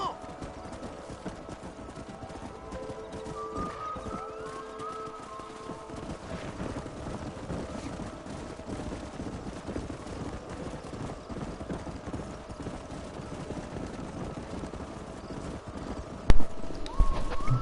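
Horse hooves clip-clopping in Red Dead Redemption, a steady rhythmic trot under ambient game sound and occasional voices, with a brief neigh and a sharp thump near the end.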